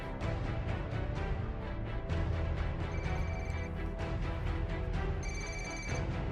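Telephone ringing in the Ghost Recon Wildlands game, a repeating electronic ring in steady pulses with a bright tonal chime over a low music bed, no voices.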